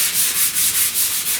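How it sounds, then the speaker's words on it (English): Hand sanding of welded areas on the upper cowl panel of a 1969 Chevrolet C10 pickup: a steady rhythmic rubbing with about seven even back-and-forth strokes, close and fairly loud, with no talking. "I'm not sanding hard, I'm not sanding deep"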